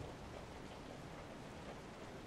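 Steady rain in the horror game Resident Evil 7, a dense, even hiss of falling water that holds at a constant level throughout, with no voices over it.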